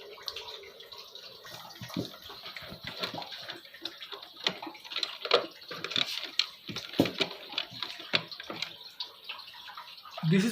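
Water flushes through the filters inside a Livpure water purifier during service, a soft, uneven trickling and splashing with irregular gurgling pulses, fairly quiet and close.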